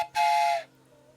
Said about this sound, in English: do you still have your train whistle around?